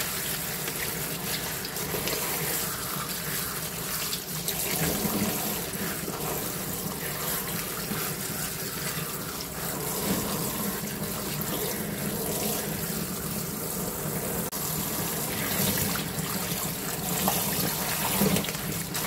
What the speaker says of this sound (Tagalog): huhugasan muna natin yung ating sangchu